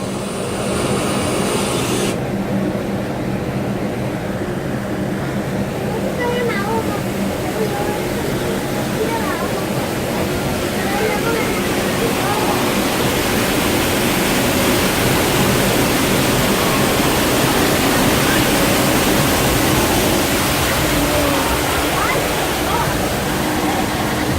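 Loud, roaring rush of falling water fills the scene continuously, a dense broadband wash with no breaks, while someone speaks faintly underneath.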